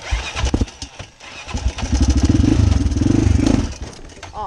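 A Honda 400EX ATV engine starts and settles into a loud, close, steady rumbling run with a fast throbbing pulse, after a few sharp knocks at the start.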